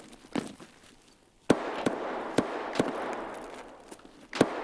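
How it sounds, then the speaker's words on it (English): Gunfire from computer-controlled enemies on the Shoreline map in Escape From Tarkov comes as a handful of sharp, irregular shots heard through a wall, over a steady rushing background. "It sounds like the NPC is actually shooting at me"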